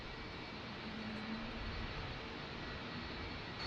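A FedEx Boeing 757 jet at a San Diego airport gives a faint, distant, steady engine roar that holds evenly throughout, with no voices.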